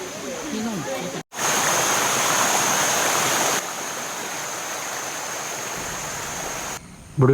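A stream rushes steadily beside the Emerald Pool in Krabi, Thailand, a constant close hiss that shifts in level partway through, with a voice briefly at the start.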